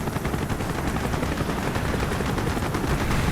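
Anti-aircraft cannon fire on a ship's deck in Call of Duty Black Ops roars as a dense, continuous barrage of rapid blasts, loud and unbroken, with a rumbling low end throughout.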